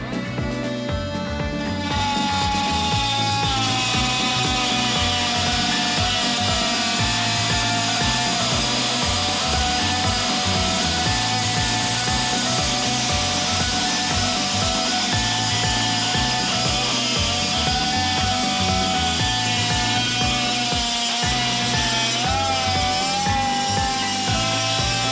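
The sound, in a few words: multi-tool with carbide blade cutting 19 mm pipe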